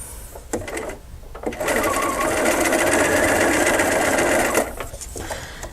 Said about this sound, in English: I'm going to do those 3 stitches again.